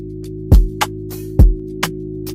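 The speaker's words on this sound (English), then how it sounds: "I'm using one of these nice basses from Nexus, the deep bass from Nexus." Deep Nexus bass synth notes played in FL Studio for a cinematic Afro fusion beat, heard as a few separate low booming notes with a sustained low drone beneath, each note punching in and decaying quickly, with no voices.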